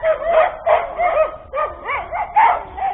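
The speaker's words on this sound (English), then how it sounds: "You can hear the barking of dogs." Several dogs barking repeatedly in quick bursts at a farm compound in the African savannah near Nakuru, Kenya, in the evening, the barks fairly close and steady with no talk over them.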